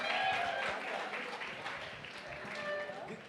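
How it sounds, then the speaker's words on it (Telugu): Audience applause at a film's success celebration event, a broad, fairly quiet wash of clapping from a crowd that swells slightly and continues steadily for a few seconds. "ఒక్కసారి గట్టిగా చప్పట్లు ఫర్ అవర్ ప్రొడక్షన్ డిజైనర్"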